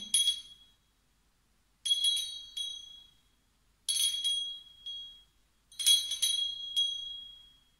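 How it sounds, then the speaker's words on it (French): Bright metallic chimes ring out in four separate clusters, each a few overlapping tones that shimmer and fade, with silent gaps in between. "Donc ça, c'est le carillon bénédiction et prospérité."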